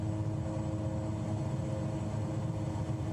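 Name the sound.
airplane engine in video game Flight Simulator 2024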